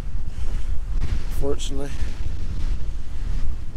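Wind blowing steadily across the open stones of the Knockoneill Neolithic court tomb, a constant rumbling roar buffeting the microphone, with a voice speaking briefly over it partway through.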